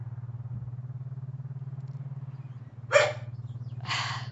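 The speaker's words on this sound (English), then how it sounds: "Stop barking!" Small dog named Nuggie barking in the Raptor Boyfriend video game, two short close barks over a steady low droning hum.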